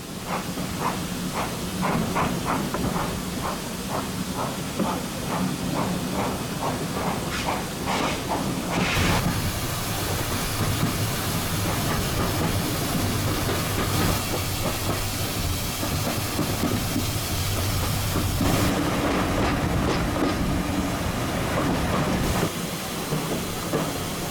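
A steam train runs on the Severn Valley Railway during a winter gala, with rhythmic chuffing exhaust beats for several seconds, then a long loud hiss of steam and rumbling carriage wheels, all close by.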